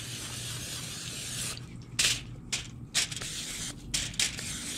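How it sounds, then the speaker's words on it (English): Canola oil sprayed onto foil from a can: several short hissing bursts of varied length, close and fairly loud, separated by brief pauses over a low background hum. "So I'll go ahead and spray this foil down with some oil."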